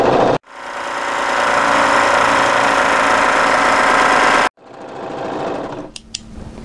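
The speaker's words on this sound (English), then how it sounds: "what I'm going to do is overlock the curve" An overlocker sewing machine runs in two bursts, a long steady whirring stitch of about four seconds, a brief pause, then a shorter run, overlocking the curved fabric edge of a turtleneck tunic.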